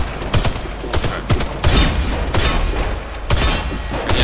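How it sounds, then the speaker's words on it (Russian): Loud, near gunfire from a Warface gun, a steady string of rapid shots and short bursts that keeps going for several seconds, heard on its own without speech. "Проверим, как наше оружие стреляет"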